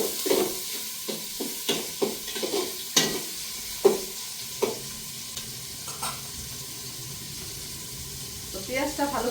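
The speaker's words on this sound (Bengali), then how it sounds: "তো পেঁয়াজটা ভালো করে ভেজে তারপর কিন্তু এর মধ্যে বাকি মশলাগুলো দিয়ে দিব" Onions frying in a pan, with a spatula giving repeated scraping stirs at an irregular rhythm over a soft sizzle, fairly close and moderately quiet.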